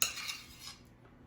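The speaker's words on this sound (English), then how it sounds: "We just spoon our sauteed vegetables and sauce in here." Cooked vegetables and sauce spooned into a dish with metal utensils, giving a soft scraping clink at the start that trails into quieter scuffing and fades out near the end.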